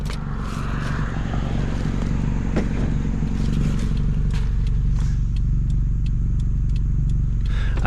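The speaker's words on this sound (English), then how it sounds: "I can't tell if this car's running right or not." A car engine with its muffler held on by lamp cords runs with a constant loud, low rumble, with faint scraping and crackling on top and no voices.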